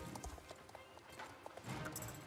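Hooves of a Friesian horse in a horse-riding video game pound in a quick galloping clip-clop, steady and fairly close, with busy game sounds around them.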